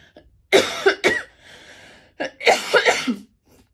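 A person coughs in two harsh bursts, several hacking coughs each, close to the microphone with quiet pauses between.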